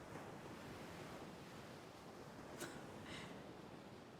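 Ocean waves wash steadily onto a beach as a soft, continuous roar. Wind and faint surf hiss sit over it, with one brief sharp sound near the end.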